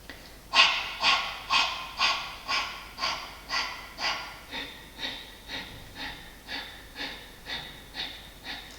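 Breath of fire pranayama done through the nose: about fifteen quick, forceful nasal exhalations in an even rhythm of roughly two per second, close and fairly quiet, with no talking.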